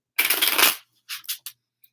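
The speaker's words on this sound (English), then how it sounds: "And we're shuffling." Tarot cards being shuffled by hand, one sharp riffle lasting about half a second followed by a few quick short card flicks, close and clear against silence.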